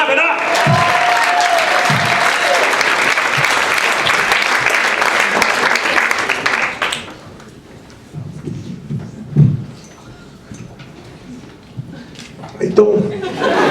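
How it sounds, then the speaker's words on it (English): Comedy club audience applauding a stand-up comedian at Carolines, loud sustained clapping with some whoops for about seven seconds, then fading into quieter room noise, scattered chuckles and the comedian starting to talk. "Clap it up!"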